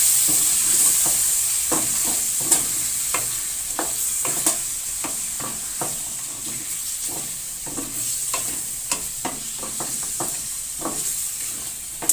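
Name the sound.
chicken frying and being stirred with yogurt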